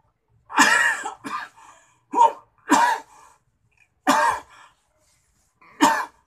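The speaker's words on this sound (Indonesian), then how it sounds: "Malu pada orang, batuk terus dengan suara yang tidak enak." Coughs and throat clearing from a sore, itchy throat come in six separate harsh bursts spread unevenly over several seconds, close and loud, with silence between them and no talk.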